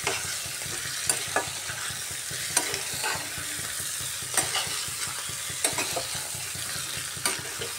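Chicken being stirred and sautéed in a pan with little spice, a steady sizzle broken by repeated sharp scrapes and clicks of the spatula at irregular intervals, close and clear with no voices.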